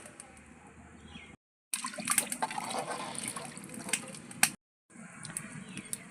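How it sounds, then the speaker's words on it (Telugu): Water gushes steadily into a biryani pot in a home kitchen, heard close and fairly loud, with brief breaks of silence in the middle and quieter room noise at the start and end. "దీనిలో వాటర్ పోసేసుకుందాం."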